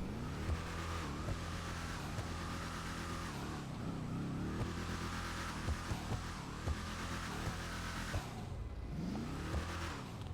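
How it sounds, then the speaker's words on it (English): Bravado Gauntlet Hellfire V8 muscle car in GTA Online, its engine revving repeatedly with a low, rumbling grumble that rises and falls in several bursts, loud and steady throughout, with no talking. "It's like a really low grumble V8 muscle car sound."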